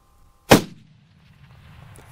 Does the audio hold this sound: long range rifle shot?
yes